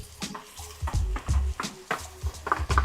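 Pork goes into a hot pan for Japanese curry, with irregular scraping and clattering stirs over a low sizzle, fairly close and loud.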